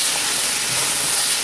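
Chili mushroom sauce with honey sizzles loudly in a hot pan as it is stirred, a dense continuous hiss with no voices.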